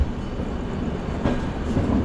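A train near Howrah rumbles past close by, a steady, heavy roar of wheels and cars that swells slightly toward the end, with no talking.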